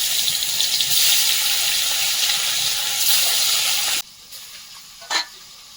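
Small river fish sizzle loudly in hot oil in a pan, a steady frying hiss that drops away sharply near the end, followed by a faint clink.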